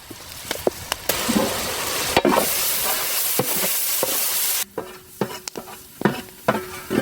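Chopped tomatoes sizzling and frying in a pan with coconut oil, ghee and onion in an outdoor village kitchen, stirred with repeated scraping strokes; steady loud sizzle that drops away partway, leaving intermittent stirring clatter.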